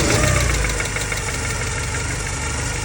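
A Porsche 944 engine, just back together after timing belt and water pump work, runs at a steady idle, loud and close, with a rough rhythmic throb.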